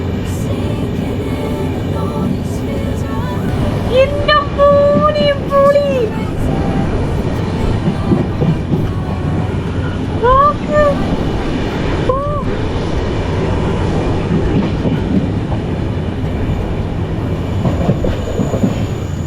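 The Goa Express 12780 runs from Madgaon to Vasco, rumbling loudly and continuously with wheel squeals and a horn-like tonal wail, as people talk over the noise.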